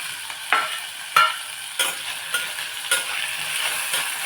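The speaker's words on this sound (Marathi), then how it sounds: "छान असं यांना पण परतून द्यायचं व्यवस्थित एक दोन मिनटं आपण परतून देऊया" Tomato, potato and eggplant sauté in a pan for masala rice, a constant bright sizzle punctuated by regular spatula scrapes about every half second to second.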